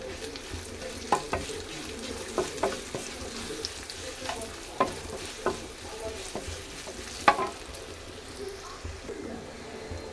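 Capsicum pieces fry in a pan, a steady close sizzle with intermittent scraping and clinking as a utensil stirs them every second or so.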